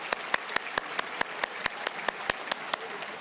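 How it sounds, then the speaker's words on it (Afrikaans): A church congregation claps in congratulation, a sparse, fairly even run of distinct handclaps, about a dozen sharp slaps at a steady pace, moderately close with a soft room tail. "Kom ons gee 'n lekker hande klap vir gelukwensing."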